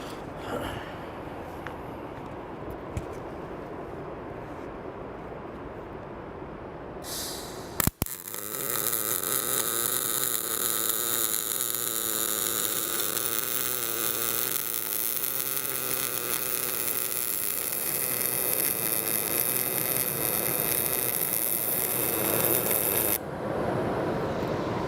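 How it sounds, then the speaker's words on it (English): A Lincoln Electric Power Wave 300C MIG welder lays a vertical-down fillet weld on a lap joint, a loud, steady, dense crackling hiss that starts abruptly partway in and holds evenly for about fifteen seconds before cutting off. "And now we're ready to weld."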